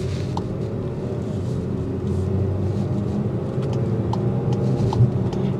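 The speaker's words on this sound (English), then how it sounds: "Interior noise, you will hear that engine throughout every time you push the pedal." Steady low engine rumble inside a 2023 Volkswagen Tiguan SEL R-Line while driving, a constant droning hum with road noise that holds level throughout, no voices.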